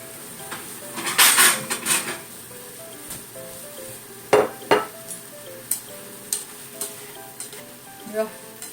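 Plates and dishes clatter and clink nearby as a broccoli, tomato and egg stir-fry is plated, with a few sharp knocks against a counter over a faint background sizzle.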